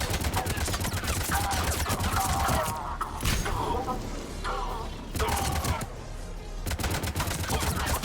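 Assault rifle fire in the sci-fi shooter Mass Effect, loud and near: dense rapid bursts with brief pauses, mixed with other combat noise and overlapping voices.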